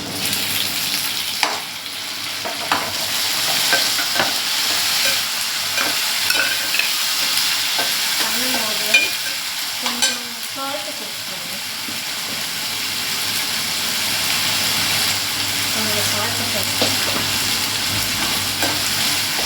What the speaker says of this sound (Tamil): வெங்காயம் நல்லா வதங்கிடுச்சு இப்போ பார்த்தீங்கன்னா தக்காளி போடலாம்